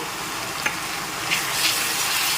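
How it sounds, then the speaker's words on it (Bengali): Ground spices, including chilli powder, turmeric, Kashmiri chilli and coriander powder, sizzle and fry in hot oil for an egg masala curry, a loud steady hiss with a few soft stirring scrapes. "মশলাটাকে কিছুক্ষণ ভালো করে নেড়ে চেড়ে কষিয়ে নিতে হবে তেল ছেড়ে আসা পর্যন্ত"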